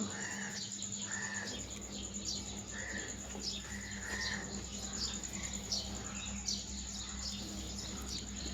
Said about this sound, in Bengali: আমি জানি না আপনারা পাখির ডাক শুনতে পাচ্ছেন কি না